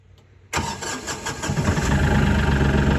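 A fuel-powered engine cranks and catches abruptly, then sputters and builds into a loud, steady running roar up close, with no voices over it.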